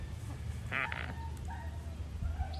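A truckload of ducks quacks in a few short, nasal calls over a low rumbling background, moderately loud, with no talking.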